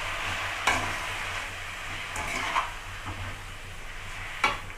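Finely chopped manathakkali greens are sautéed in a pan over a low flame, a soft sizzle running under a spoon stirring and scraping, with a few sharper clinks of utensil against the pan and no talk.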